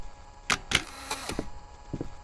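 Camera shutter clicks in the horror game Depth 6: two sharp snaps close together, a few softer clicks after them, and faint ticks near the end over a low ambient hum.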